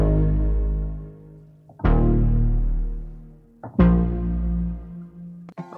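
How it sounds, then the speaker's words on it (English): Synth bass from a Serum preset, a square-ish wave two octaves down with an added 7th note on top, plays three long sustained notes that swell and fade, each with a sharp attack, loud and alone. "Next sound is what I like to call the 7th note bass sound."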